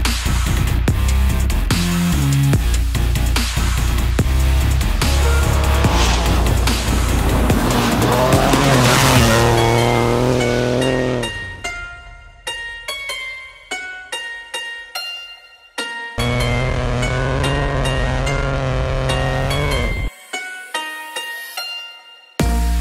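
A rally car on a test drive roars loudly at high revs, its tyres skidding and squealing. Then come sharp gear changes and engine bursts that cut in and out, with no talk.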